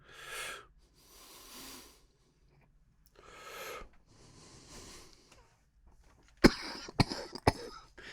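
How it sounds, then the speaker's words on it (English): Several bursts of breathy exhaling and hacking after a cannabis hit, then a cluster of sharp, close coughs in quick succession near the end. "this really makes me want to cough after every hit"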